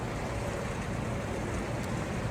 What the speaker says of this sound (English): That will be part of the noise pollution, is the heavy water flow.